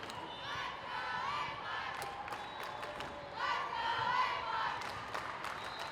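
A crowd circling a court at a 14U volleyball championship match inside a convention center, a steady reverberant murmur of voices with cheering swelling midway, plus scattered shouts and ball sounds.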